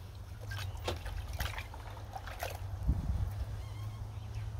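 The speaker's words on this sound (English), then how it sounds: "I'll fill the bucket up now and wash them." Water runs into a bucket for washing freshly harvested carrots from a raised garden bed, producing a steady trickling flow over a low rumble, with a few splashy knocks and rustles.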